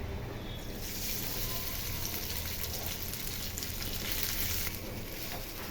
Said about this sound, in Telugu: ఇట్లా నీట్గా ఒకసారి కలుపుకొని ఉంచుకోవాలి ఫ్రెండ్స్